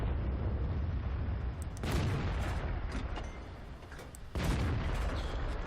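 Heavy tank cannon shots in World of Tanks, playing a T69 on the Prokhorovka map: two loud, booming broadband blasts a few seconds apart rise over a steady engine rumble.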